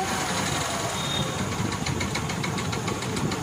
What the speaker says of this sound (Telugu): ఇప్పుడు బండి అయితే స్లో స్పీడ్ ఐడ్లింగ్ అడ్జస్ట్ చేస్తాను